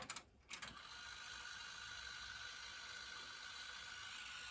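An Onkyo K-511THM cassette deck rewinds a Maxell UR90 tape with a clunk of the mechanism, then a faint, steady whirring hiss.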